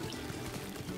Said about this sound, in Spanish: Lléname esto de agua, muchacha.